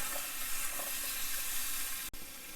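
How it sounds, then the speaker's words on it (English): Butternut squash tossed with Cajun seasoning simmers over low heat in a pan. A soft, steady sizzle and hiss goes on throughout, with a brief click near the end. "we'll let this just simmer on a pretty low heat for about another 5 minutes"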